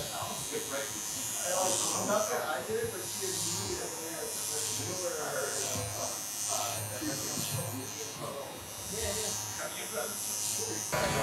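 Electric hair clippers buzz steadily while tapering a haircut around the widest part of the face, running close and continuous with people talking over them throughout.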